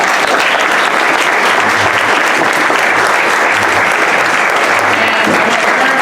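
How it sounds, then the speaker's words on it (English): Sustained audience applause at a Frederick County Republican congressional district 6 debate, a dense steady wash of many hands clapping at full volume throughout, with faint crowd murmur underneath. "please give them a warm round of applause for standing up"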